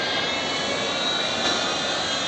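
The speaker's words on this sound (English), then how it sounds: "with a bit of luck we shall hear famous Vulcan howl from the 4 Rolls-Royce Bristol Olympus engine" Avro Vulcan B2 bomber's four Rolls-Royce Bristol Olympus engines howl at takeoff during an air day at RNAS Yeovilton, a loud, steady, broad jet roar that fills the whole stretch without talking.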